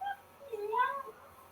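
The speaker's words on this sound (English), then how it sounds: "So, somebody meowing? That's my dog." A dog lets out a faint, high whining cry that rises and falls like a meow, short and alone in a quiet room.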